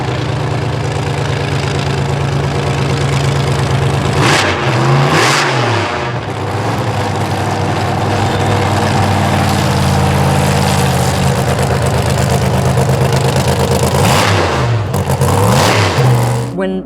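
The Ghost Driver drag car's engine rumbles loud and close at a lumpy idle, punctuated by two sharp, thunderous revs that swell and fall away, with people talking faintly underneath.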